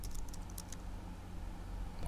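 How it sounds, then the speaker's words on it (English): Faint keyboard typing, a few quick key clicks early on, heard under a steady low background hum. "the sounds of someone typing fill the air."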